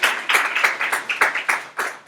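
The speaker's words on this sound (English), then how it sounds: "Let's give them all a big round of applause." Lecture hall audience clapping for teaching assistants, a sparse rhythmic patter of a few pairs of hands, evenly spaced claps heard close and clear.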